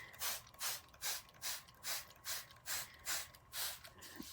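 A hand pump sprayer being pumped and sprayed over lisianthus seedlings, faint rhythmic squeaky strokes repeating about every half second, steady and close.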